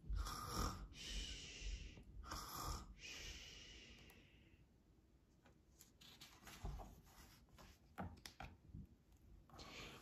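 A person's voice imitates a grandmother snoring, giving a few soft, rasping snore-like breaths that start close and fade to quieter, intermittent snorts.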